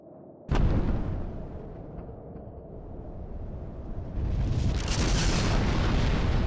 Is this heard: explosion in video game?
yes